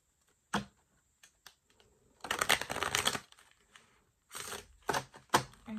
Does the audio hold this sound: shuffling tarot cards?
yes